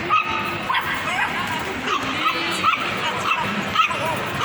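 Dogs yip, whimper and bark in a busy indoor mall during a dog festival, short excited calls repeating throughout over steady crowd noise, with people talking nearby.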